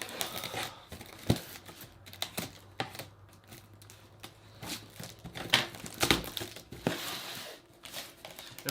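Cardboard box packaging of airsoft gear, Krytac Vector short mags among it, being cut and opened with scissors: irregular close crinkles, snips, tearing and thumps of cardboard and plastic handling in a quiet room.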